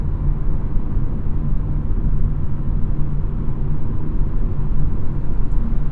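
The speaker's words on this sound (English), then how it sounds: "Like most Porsches with summer tires, you hear that road noise, and really most sports cars with summer tires." Steady broadband road and tire roar inside a 2021 Porsche 718 Cayman GTS on summer tires at highway speed, a constant low rumble with no music or voices.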